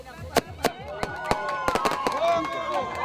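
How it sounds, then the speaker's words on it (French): Firecrackers signaling the end of a caique regatta in Brazil pop in a rapid, irregular series of sharp bangs, with crowd voices and cheering underneath. "On allume le pétard qui signale la fin de la régate."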